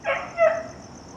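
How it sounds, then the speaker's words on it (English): A neighbours' dog barks at night, two short sharp barks close together, fairly near and clear against a quiet background, then silence. "People next door got another dog."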